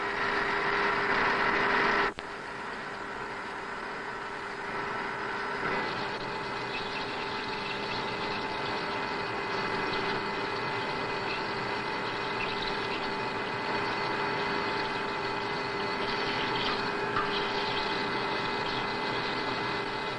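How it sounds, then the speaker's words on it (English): A modern copy-turning lathe profiles the full length of a lathe spindle in a roughing cut. It gives a steady mechanical hum and whine with a constant tone that holds for the whole stretch, with one abrupt shift in level early on. "The spindle then passes to this modern copy-turning lathe, which profiles the whole length of the spindle"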